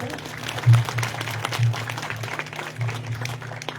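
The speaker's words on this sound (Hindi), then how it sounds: "महोदय जी के लिए तालियां हो जाए" An audience at a village 'Sarkar Aapke Dwar' government outreach event in Kashlog claps for a guest called onto the stage, a steady burst of applause at moderate loudness that swells and eases over several seconds.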